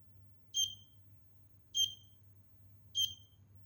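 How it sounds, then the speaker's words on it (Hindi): An Arduino project shield's buzzer sounds three short, shrill beeps spaced about a second and a quarter apart, loud and isolated over a quiet low electrical hum. "इसलिए हमारा बजर चल रहा है"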